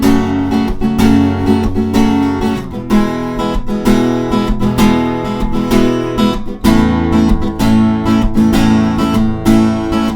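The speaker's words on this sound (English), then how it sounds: "Now we're going to move into the strumming part" An acoustic guitar strums the chorus of a song in a steady, loud, close rhythm of full chords with no voices.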